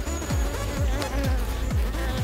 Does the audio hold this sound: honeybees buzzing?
yes